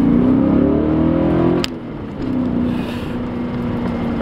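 A BMW M5 takes a tight turn, its engine humming steadily close by before the tone drops abruptly and then settles into a lower, even drone with some wind rush.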